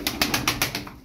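Tumbler pigeons close by, a rapid, evenly spaced burst of about seven soft flapping or fluttering beats within a second, with no voices.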